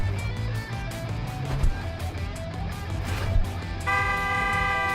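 A vehicle horn in a trucking video game sounds as a sustained multi-tone blare near the end, above a dense layer of engine noise and game music.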